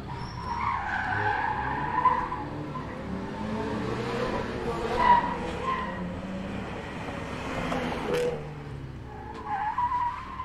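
A car skids and spins out on a technical gymkhana circuit of cones and chicanes at a motor club test, a steady tyre and engine roar lasting throughout with a few louder swells, heard from a distance.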